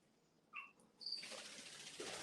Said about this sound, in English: Those crickets are loud.